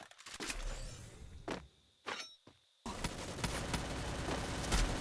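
Gunfire in the Free Fire battle royale game: a few sharp bursts and single shots close by, then a sustained rattle of fire filling the last two seconds.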